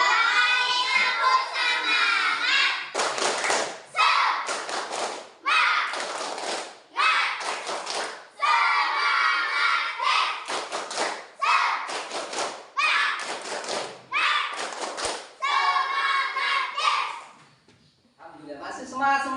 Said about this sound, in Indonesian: Coba tepuk semangat dulu semuanya.